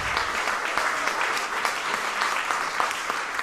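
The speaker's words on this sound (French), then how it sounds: "on va l'applaudir." A crowd claps steadily, a dense patter of applause at even loudness with no voices standing out; audience at a Fête nationale celebration in Saint-Eustache, Quebec.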